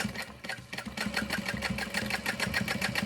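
A domestic sewing machine top-stitches fabric along the seam allowances of a crossbody bag, giving a quick, even run of mechanical pulses at close range.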